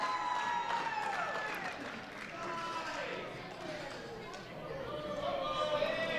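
A wrestling crowd in Toledo cheers and roars from the arena, a steady wash of voices with whistles and shouts throughout, with a commentator's voice over the top.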